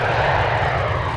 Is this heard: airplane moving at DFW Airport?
yes